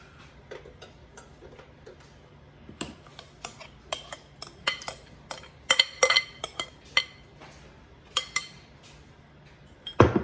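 A utensil scraping birria paste into a cooking pot for jackfruit birria, heard as a long run of irregular metallic clinks and taps, some light and some sharper, near and clear with no talk.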